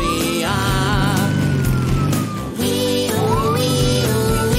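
Wailing police car siren in a kids' cartoon, rising and falling steadily over bright background music for the whole stretch. Loud and close, with no talking.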